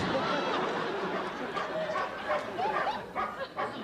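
A dog, a female, gives short barks and yips over a busy indoor room, close by, amid background chatter and a voice.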